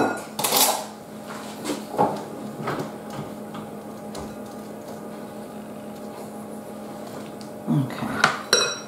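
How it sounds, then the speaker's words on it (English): A flour mixture is spooned into a pan for a butterscotch tart, with several close metallic clinks and taps of a spoon against the pan and bowl spaced irregularly over a faint background, one louder clatter near the start and more toward the end. "We're going to add in our flour mixture that we did earlier. I'll just spoon that in."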